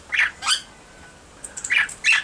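A pet parrot squawks in loud, harsh bursts, two close calls, a brief pause, then a quick run of squawks ending in another loud cry.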